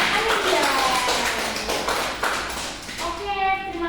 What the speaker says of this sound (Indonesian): tepuk tangan lagi untuk kelompoknya Amelia